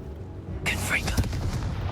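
A Confringo blasting spell goes off in Hogwarts Legacy: a sudden burst that fades away quickly, with a character's voice calling out alongside it.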